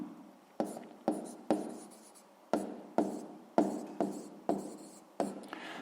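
A pen writing out a 6th-grade math solution by hand: a regular series of about ten quick strokes and taps on paper, each fading before the next, quiet and close.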